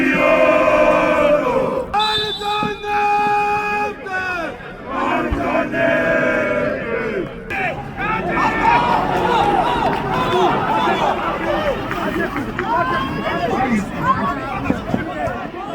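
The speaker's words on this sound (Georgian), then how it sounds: "აქტიურები არიან ტორპედოს გულშემატკივრები და ისინი განსაკუთრებით ხომაგობენ საკუთარ გუნდს." Torpedo football supporters in a stadium chant and roar for their team, the massed voices loud and sustained, with rhythmic shouted calls rising over the constant crowd noise.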